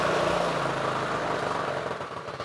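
A Yamaha Mio motorcycle engine runs without a battery, idling close by with a steady, low, throbbing putter that stays even throughout.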